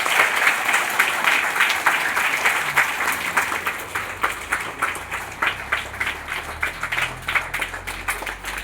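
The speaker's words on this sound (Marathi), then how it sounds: "सर्वांचं टाळ्या एकदा स्वागत करायचं." An audience claps in applause at a school Disability Day celebration in Kangaon, Daund. The clapping is steady and dense throughout, close and loud, with no talk over it.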